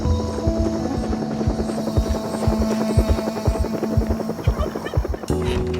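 Helicopter in Project Zomboid, a loud rhythmic rotor thump beating steadily with a droning engine hum, ending in a brief shift of tone.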